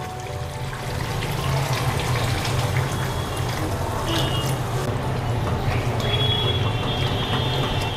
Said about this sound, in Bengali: এইবার আমি একটু জল দিয়ে দেব।